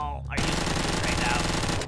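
Rapid automatic gunfire from a gun in Garry's Mod, a dense, loud stream of shots running almost continuously after a brief quieter lead-in.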